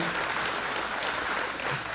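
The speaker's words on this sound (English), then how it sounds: "round of applause for Civil Air Patrol, too" A crowd at a STOL aircraft championship awards event gives steady, dense applause for Civil Air Patrol, a continuous wash of clapping from many hands.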